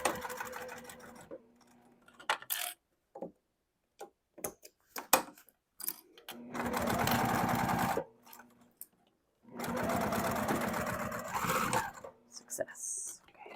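Sewing machine stitching a backpack panel: scattered ticks and short bursts of needle strokes, then two long, loud, steady runs of rapid stitching close to the microphone.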